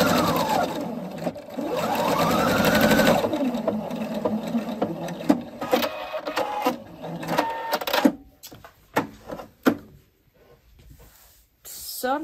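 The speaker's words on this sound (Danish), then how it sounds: "jeg syr i, så det er en almindelig lige ud syning, jeg bruger" A sewing machine runs a plain straight-stitch side seam in woven fabric, a fast whirring chatter in long bursts, then short stop-start runs, close and loud.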